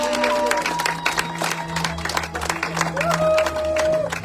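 Audience applause for young performers after a short skit at a church youth event, dense clapping mixed with a crowd murmur and steady low tones, with a sustained musical note rising near the end.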